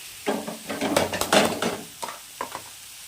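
Chopped fenugreek leaves fry and are stirred in a pan while making a Maharashtrian methi bhaji, with a close, soft sizzle and scraping utensil strokes in uneven bursts, fading to a few lighter stirs.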